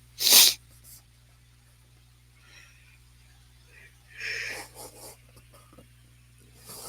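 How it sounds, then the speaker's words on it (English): A single sharp sneeze bursts out right at the start, followed by quiet rustling, soft breaths and faint movement noises. "I'm about to sneeze, so bear with me."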